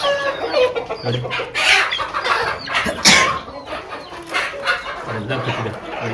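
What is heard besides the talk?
country chickens clucking at night in their roost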